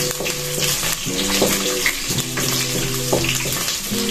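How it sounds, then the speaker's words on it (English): Tomatoes go into a pan of browned onions and fry with a loud, close, continuous sizzle. A tonal hum runs underneath and there are a few stirring clatters. "once our onion has browned up enough, I'm just gonna go in with the tomatoes."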